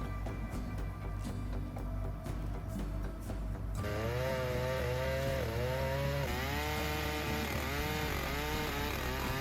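A chainsaw cuts into a massive, leafless ancient tree in a forest, the engine loud and close, shifting from a rough idle to a higher, wavering bite into the wood.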